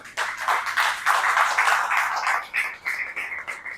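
A church congregation claps for the Lord in a service, a dense, continuous patter of many hands that swells and then breaks into slightly uneven rhythmic bursts near the end.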